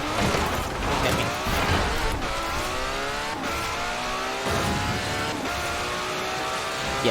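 A race car in the Forza Horizon 4 driving game roars at full throttle through streets and into woods, its engine note climbing and dropping through repeated gear shifts, loud and continuous with no voices.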